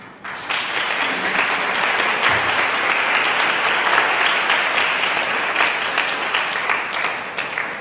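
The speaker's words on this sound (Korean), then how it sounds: "큰 박수로 환영해 주시고 축복해 주시면 감사하겠습니다" A congregation at a church prayer meeting in the Philippines gives loud, sustained applause to welcome a pastor, a dense, even roar of clapping that lasts several seconds with no talk over it.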